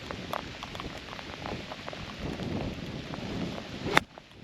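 Rain falls steadily on an open golf course, a continuous soft hiss with scattered drops pattering nearby, ending in a sharp close knock.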